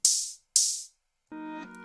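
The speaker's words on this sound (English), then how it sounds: "So I've chosen this hi-hat specifically to play at the beginning of each" Two crisp open hi-hat hits ring out back to back, each with a short sizzling tail, followed by a sustained synth chord.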